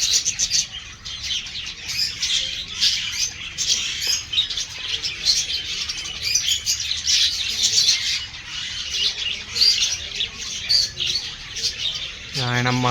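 Lovebirds at a zoo aviary keep up a dense, continuous chorus of shrill chirps and squawks close by. A short low tonal sound cuts in at the very end.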